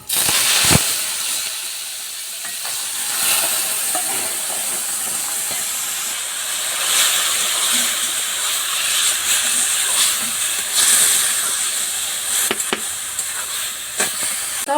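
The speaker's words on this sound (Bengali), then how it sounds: "এখন আমি বয়ের শাকটা তেলে দিয়ে দিব" Leafy pumpkin greens hit hot oil in a village kitchen, giving a loud, steady, hissing sizzle that runs nearly throughout with small crackling spikes and no talking.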